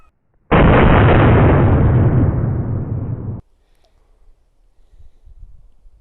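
A single huge, booming shot from a .50-70 howdah pistol loaded with black powder, close and very loud, with a long roaring tail lasting about three seconds before fading to quiet outdoor background.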